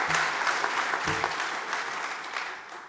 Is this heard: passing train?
no